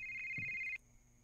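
A cellphone ringtone chirps in a steady electronic tone for under a second, then cuts off abruptly, with a brief low murmur in the background and near silence afterward.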